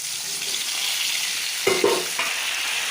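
Potato and eggplant fry in hot oil tempered with kalonji, giving a steady bright sizzle with a brief clatter of stirring midway.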